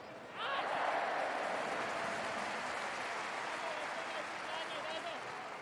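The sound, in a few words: home stadium crowd applauding at a football match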